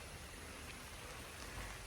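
Continuous dense hiss of rain falling, steady and fairly close with no other sounds standing out.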